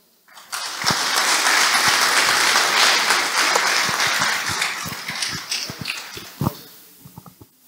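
An audience at a building managers' day event applauds to welcome the campground president, the clapping swelling quickly, holding steady, then thinning into scattered individual claps before fading out.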